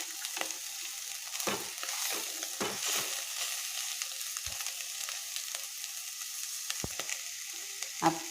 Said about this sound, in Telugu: మీడియం ఫ్లేమ్లో పెట్టి ఫ్రై చేస్తే మొత్తం ఈ పీసెస్ మొత్తం ఈక్వల్గా ఫ్రై అవుతాయండి